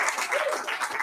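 A brief burst of applause from a wedding crowd, dense overlapping clapping with faint voices mixed in.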